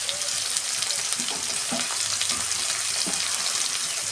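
A large tomato sautéing in a hot frying pan with ginger and garlic, giving a loud, continuous sizzle and crackle throughout, with faint stirring scrapes underneath.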